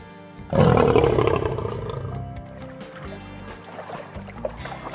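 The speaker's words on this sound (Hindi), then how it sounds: "परछाई को देखकर शेर जोर से दहाड़ा" A lion roars loudly beside a well in a cartoon story. The roar bursts in suddenly, peaks early, then trails off into a long echoing tail with no talk over it.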